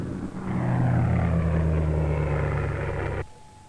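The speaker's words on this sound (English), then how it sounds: "Now the aircraft is almost overhead." A propeller-driven airplane passes close overhead, its loud droning engine hum swelling in quickly and holding steady before cutting off abruptly, with no voices present.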